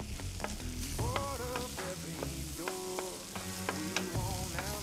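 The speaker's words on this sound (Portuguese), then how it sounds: "hora de entrar com cebola e alho" Onion and garlic hit a hot pan of browned bacon cubes and calabresa sausage, giving a loud continuous sizzle with stirring scrapes and clinks close by, no voices.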